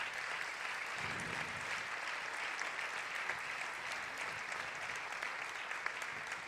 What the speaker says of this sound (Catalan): Per a tots i totes ells us demano un fort aplaudiment.